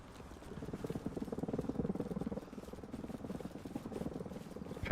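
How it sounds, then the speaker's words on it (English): Two Apache attack helicopters in the video game Arma Reforger, a faint, distant rotor chop with steady rhythmic fluttering and no voices. "I think we have 2 Apaches up right now."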